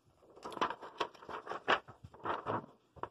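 Scissors snip through a thin, flexible plastic face shield sheet to round off its corners, making a run of quick crackling cuts and scrapes, close and fairly quiet.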